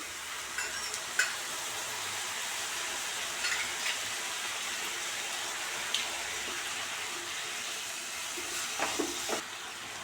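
Soy sauce sizzles in a hot pan of vegetables being stirred for veg manchow soup, a steady bright crackling hiss with occasional spoon scrapes and clinks, no talking.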